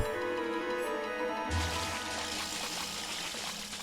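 A waterfall in Okami HD rushes steadily, a broad continuous wash of falling water that swells louder partway through and holds under faint background music.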